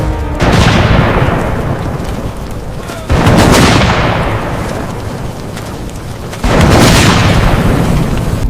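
An AC-130 gunship firing on Roman legionaries: three huge, booming blasts several seconds apart, each followed by a long, rolling, fading rumble, very loud and close.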